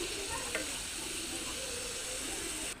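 French fries cook in oil over very low heat, making an even, continuous sizzle up close that cuts off abruptly near the end.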